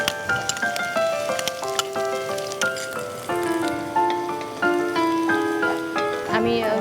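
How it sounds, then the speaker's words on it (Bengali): Chopped onions sizzle steadily in hot mustard oil with whole spices while beef with whole garlic cooks, a continuous hiss running under louder tuneful background music and a brief spoken word. "এখন এই পর্যায়ে আমি পেঁয়াজ কুচিগুলো দিয়ে দিচ্ছি।"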